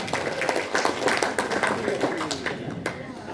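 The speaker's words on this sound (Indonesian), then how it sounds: "beri tepuk tangan untuk kita semuanya" Workshop participants break into clapping, a loose patter of many hands with sharp individual claps scattered throughout, mixed with voices talking over it.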